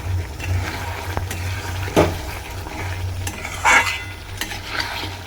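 A spatula stirs Manchurian with black pepper and coriander leaves in a sizzling pan, with scraping strokes and a few sharp metal clanks over a steady fry, no voices.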